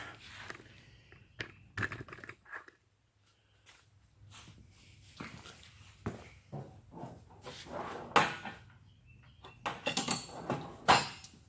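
Rummaging through a toolbox for a thumb wrench while fitting aluminum intake and intercooler piping on a twin turbo C4 Corvette: scattered metallic clanks, rattles and knocks in irregular bursts, close by, with no talking.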